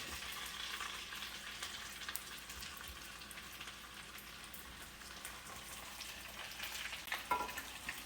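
Honey glazed salmon with Old Bay seasoning sizzles steadily in a hot pan, a dense crackling hiss that holds at an even level throughout, with no voices.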